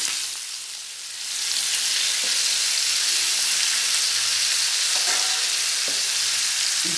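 Chicken tikka pieces sizzle on a hot tawa just after being flipped, giving a steady, loud, close frying hiss for the whole stretch, with a brief dip near the start and a few faint utensil taps.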